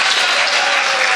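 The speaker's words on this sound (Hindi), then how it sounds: "एक बार जोरदार तालियां तमाम शुराए किराम के लिए।" Loud, dense applause from the audience at a mushaira in Sishgarh, Bareilly, a continuous close roar of many hands clapping without any voices over it.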